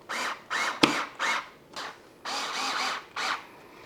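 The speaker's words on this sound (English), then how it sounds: "I'm gonna use my drill because it's not that powerful" A power drill driving screws while assembling an IKEA HEMNES two-drawer nightstand whirs in a series of short bursts, with a sharp knock partway through, close by and fairly loud.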